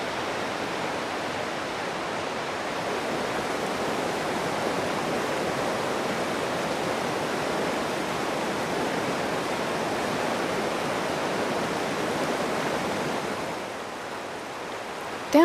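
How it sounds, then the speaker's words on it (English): Wisconsin river water tumbling over rapids through a cataract carved in bedrock, a steady full broadband rush that holds constant and close throughout, with no voices. "the river tumbling through the cataract carved in the bedrock"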